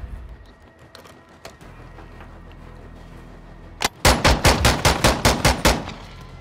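Automatic gunfire in a first-person shooter game: a rapid, loud burst of about ten evenly spaced shots with a mechanical clatter, after a few quieter scattered shots.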